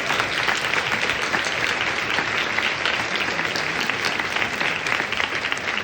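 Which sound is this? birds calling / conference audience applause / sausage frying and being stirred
conference audience applause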